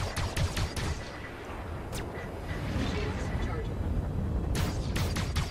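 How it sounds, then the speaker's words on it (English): Gunfire in the space video game Star Citizen: a burst of rapid sharp shots at the start, another crack near two seconds and a final cluster near the end, mixed into a dense rumbling battle din. "Someone else is shooting at him, or someone's shooting at me."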